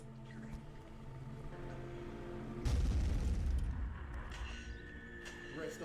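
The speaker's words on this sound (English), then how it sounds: "B-52 carpet bomb." Video game B-52 carpet bombing lands as a sudden loud boom and rumbling explosion midway, after a stretch of steady background noise. The blast swells, then decays into a lingering low rumble.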